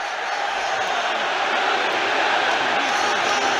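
Inter Milan supporters packing San Siro during a Champions League derby against AC Milan roar in a dense, steady wall of crowd noise that stays loud and unbroken throughout, with no clear voices standing out.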